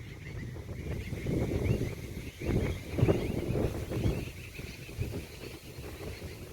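Strong gusting wind buffets the microphone in rumbling surges, with faint water movement underneath and no voices.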